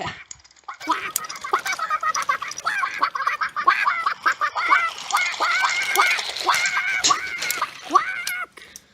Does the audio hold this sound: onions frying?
no